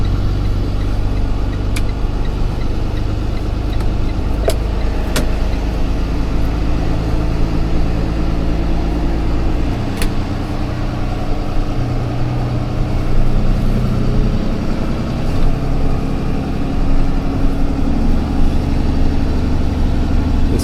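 An SUV engine runs loudly and steadily while it moves a loaded boat trailer, a deep continuous rumble with a few faint clicks, heard close up and with no talking.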